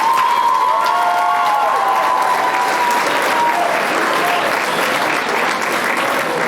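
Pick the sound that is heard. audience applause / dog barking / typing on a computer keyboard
audience applause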